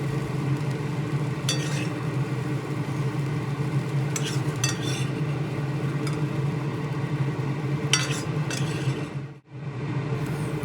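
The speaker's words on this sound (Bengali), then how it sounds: "মিনিট দুয়েক সময় ধরে সয়াবিন ভেজে নিয়ে এবার কড়াই থেকে তুলে নিচ্ছি।" Soybean chunks frying in mustard oil in a wok, a continuous close sizzle broken by repeated scraping stirs and a brief quiet dip near the end.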